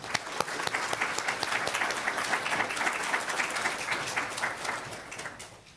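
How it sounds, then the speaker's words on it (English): An audience of political science conference attendees applauds steadily to welcome a speaker, a dense wash of clapping that holds at a steady level before fading out near the end. "Please help me applaud in welcoming John Dinan."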